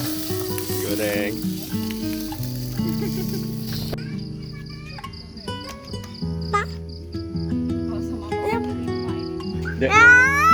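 Food sizzles and fries in a pan at a lakeside campsite by a reservoir in Pringsewu, Lampung; a steady hiss runs loud for the first few seconds, then continues under tonal voices or music.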